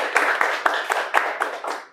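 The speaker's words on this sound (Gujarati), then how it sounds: "ખૂબ ખૂબ ખૂબ તાળીઓ નીલમબેન માટે" Hands clap in a brisk, even rhythm, about eight sharp claps in two seconds, close and fairly loud, applause for a woman named Neelamben on a Gujarati talk show.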